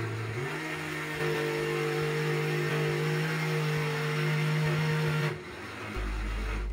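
A food processor grinds granulated sugar with a steady loud whirring motor drone that rises in pitch early, holds for about five seconds, then winds down and stops.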